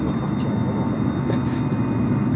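An aircraft engine doing its run-up just behind the player in Flight Simulator, heard as a steady, broad roar with a constant whine held throughout at moderate level, with no breaks.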